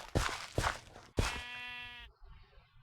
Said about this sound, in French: les moutons, vous savez vous taire, parce que moi je mange pas de viande, mais si vous continuez votre bazar, je peux changer d'avis